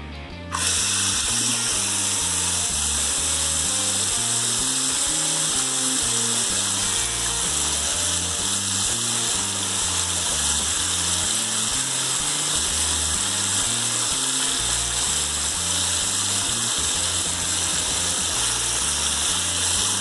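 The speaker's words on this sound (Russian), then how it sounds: "Как мы видим, вода прекрасно уходит, насос ее откачивает" An SFA sanitary macerator pump drains sink water through a newly connected pipe after being cleared of a tea-leaf clog. It gives a loud, steady mechanical whirring drone with a rattling, ratchet-like texture that runs unbroken from start to finish, with no voices.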